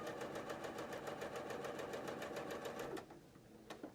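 A sewing machine runs steadily, stitching half-square triangles for a quilt, with a rapid, even mechanical chatter close by that stops near the end, followed by a couple of faint clicks.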